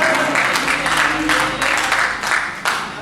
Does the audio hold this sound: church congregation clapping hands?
yes